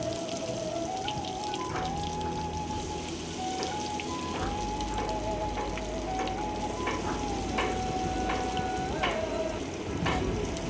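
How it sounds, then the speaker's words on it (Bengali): Mochar chop, banana-flower croquettes, fry in hot oil with a continuous bubbling sizzle, broken by a few sharp pops and spatters toward the end and a faint tonal hum underneath; no one speaks. "তো এখানে এখন আমাদের চপগুলো ভেজে নেওয়ার পালা।"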